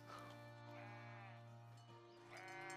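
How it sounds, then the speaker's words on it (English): Sheep bleating in a pasture in the farming video game Foundation, with several drawn-out bleats at the start, middle and end over a steady droning game tone and music. "So there's our pasture for our sheep."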